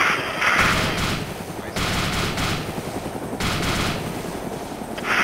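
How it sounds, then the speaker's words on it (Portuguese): Rapid bursts of automatic gunfire in Arma 2 crackle loudly and almost without pause, with a brief lull partway through. "Olha o tiro."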